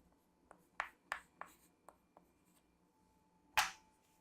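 Chalk or marker strokes on a board during a physics lesson: a handful of short, crisp taps and scratches in an uneven rhythm, close and quiet, ending with one louder stroke.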